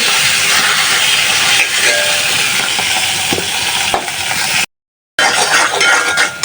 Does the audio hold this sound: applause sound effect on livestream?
no